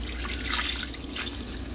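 Water pours steadily from a watering can onto a houseplant's dry potting soil, a continuous soft trickle and patter with no voices.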